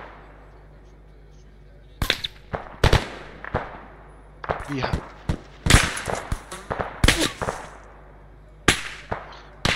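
Gunfire during a night military exercise: sharp, scattered shots and bursts, some close and loud, others farther off, with brief radio-style talk between them.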